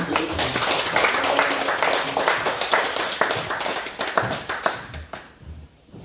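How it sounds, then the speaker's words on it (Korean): A church congregation claps in rhythm with worship music during a service, with steady hand claps running over the music before thinning out near the end. "우리 박수로 함께 음악 올리겠습니다"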